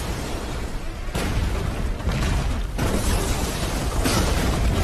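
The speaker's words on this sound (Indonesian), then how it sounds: "akibat dari ledakan tersebut membuat Sang Wung dan Jonathan tewas di tempat" Sustained roaring blasts of an explosion in an action film, loud and dense, with abrupt cuts between bursts and rumbling debris throughout, no talking.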